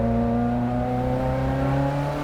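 A Ferrari F355 racecar engine revs with a steady, loud, sustained tone and strong low harmonics, running high without pause and no voices over it.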